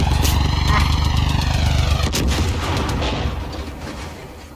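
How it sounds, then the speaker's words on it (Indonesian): Game explosions in Far Cry 5 co-op go off in a rapid crackling burst like firecrackers, with loud repeated pops and booms that thin out and fade over several seconds. "suaranya kayak petasan gitu tadi"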